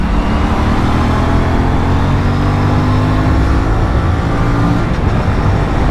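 An Aprilia RS457 motorcycle engine revs loudly through its gears after its first service, a dense continuous drone that holds strong and close for several seconds with no talk.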